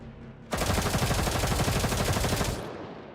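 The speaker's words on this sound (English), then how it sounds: "However, the laughter is soon interrupted by the sound of gunfire." Rapid automatic gunfire from a battle in the video game GFL2 Exilium, a dense, loud burst of rattling shots lasting about two seconds after a brief quiet lead-in, then trailing off into a lingering rumble.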